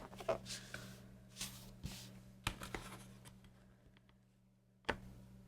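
Scissors or a rotary cutter trimming a straight edge off quilting fabric for a scrappy pumpkin pot holder, heard as a few sharp close ticks and scratchy snips scattered across a quiet room, with no talking.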